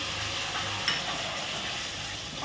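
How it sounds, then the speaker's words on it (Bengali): Masala paste and salt hit hot oil and fry with a constant, dense sizzle close by, and a single brief clink sounds partway through. "এই তেলের মধ্যেই আমি দিয়ে দেবো এই মশলাটা, সঙ্গে দিয়ে দেবো 1 চামচ নুন"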